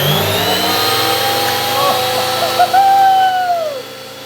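Wood feeding through the rollers of a workshop machine, heard as a steady mechanical whir with a rising then falling tonal sweep near the end, fairly close and moderately loud, with no talking over it.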